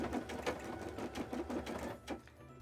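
An embroidery machine stitches a cosplay design, giving a quiet, steady run of fast rhythmic mechanical pulses with no talking.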